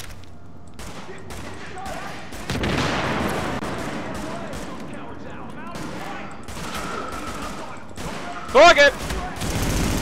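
Rapid bursts of gunfire crackle through a firefight in the PC game Tom Clancy's The Division, loud and near, while players talk over the shooting.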